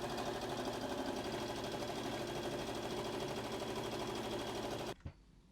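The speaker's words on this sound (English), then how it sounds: "we're going to sew to that point and then press that seam open" A sewing machine stitches a yukata seam in a fast, steady rhythmic whir for about five seconds, close and clear, then stops abruptly with a small click.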